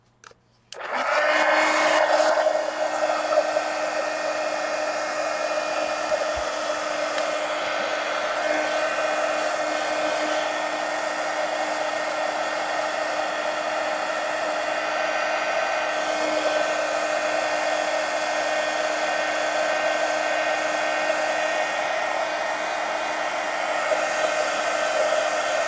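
Hair dryer blowing steadily on an art napkin journal page, a loud continuous whirring hum that switches on abruptly and runs unbroken, close to the microphone with no talking.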